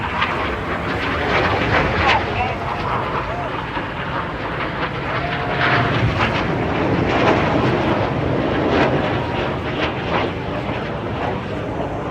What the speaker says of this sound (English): Each aircraft performing a dynamic barrel roll for the colourful and dynamic synchro double roll.